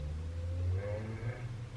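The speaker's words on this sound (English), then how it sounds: "Do you hear somebody revving up their engine?" A car engine revs on an LA street, a steady low mid-pitched drone that swells and climbs in pitch, heard from a moderate distance with faint background rustle.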